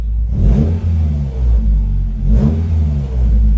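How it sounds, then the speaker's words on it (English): A BMW car engine revs hard twice, a deep rumbling roar that swells and falls back, loud and close with no voices. "I'll give it a nice little rev for you guys."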